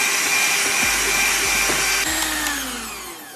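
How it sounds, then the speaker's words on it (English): Four egg whites being beaten in a bowl, likely with an electric mixer, a loud steady high whirring with a few brief clicks and a slight drop in pitch toward the end. "Beat 4 egg whites. It starts to get foamy"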